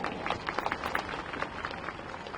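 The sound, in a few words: applause from the audience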